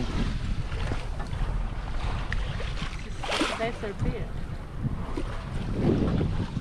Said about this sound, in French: Je vous montre l'état de la mer, c'est vraiment rien.